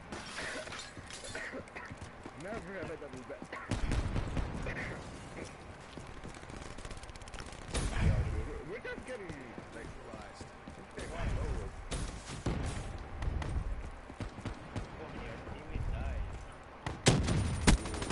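Gunfire in a video game, bursts of shots and sharp cracks scattered across the stretch, mixed with excited voices talking over them.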